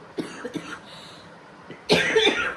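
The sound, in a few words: coughing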